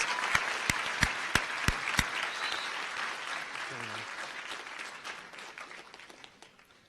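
A commencement crowd applauds graduates of the School of Graduate Studies at St. George's University in Grenada, dense clapping under a few sharp louder claps, then the applause gradually thins and fades.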